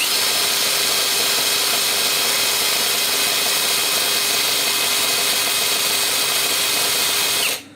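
A VVOSAI WS-Z9 cordless impact driver on a 4 Ah battery runs at top speed with a loud, steady high whine that holds for several seconds and then cuts off sharply at the end.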